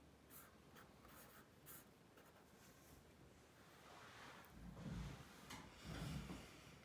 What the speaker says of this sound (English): Here's a problem. I'm writing it down.